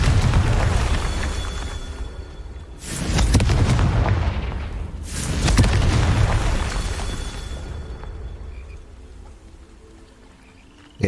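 Two loud booming blasts from a Confringo fire spell cast in a Hogwarts video game, each with a rumbling tail, spaced a couple of seconds apart over a steady game background that fades toward the end.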